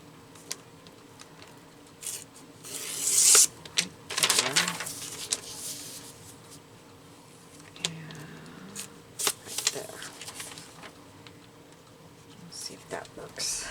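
Paper being trimmed by hand for a Christmas collage gluebook: scattered crisp snips and rustling paper handling come in short bursts, close and fairly quiet, with a brief louder rasping cut partway through and a few faint murmurs.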